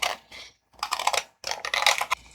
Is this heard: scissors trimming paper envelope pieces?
yes